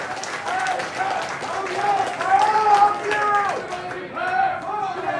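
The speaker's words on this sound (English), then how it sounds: "So do me a favor and give him a big, big round of applause." A concert crowd in Chicago claps and cheers between songs at a rock show, a sustained wash of applause with voices rising and falling while sustained musical tones ring over it.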